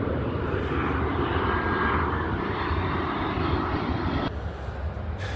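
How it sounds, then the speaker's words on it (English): An airplane flies overhead outdoors with a steady, broad engine roar that holds loud and constant before dropping slightly near the end. "Another plane."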